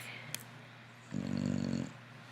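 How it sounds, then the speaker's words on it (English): A dog snores softly indoors at home, one drawn-out rumbling snore rising after a quiet stretch, close and faint with no talk. "He's snoring."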